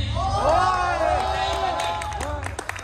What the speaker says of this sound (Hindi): शमसल मलूक, जोरदार तालियों के साथ